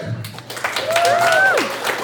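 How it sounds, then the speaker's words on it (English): A comedy competition audience in Billings applauds a comedian taking the stage: steady crowd clapping for about two seconds, with a few whistles rising over it and a voice faintly underneath. "Another round of applause,"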